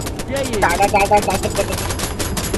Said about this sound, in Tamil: கன் எடுங்க. அவனை சுடுங்க.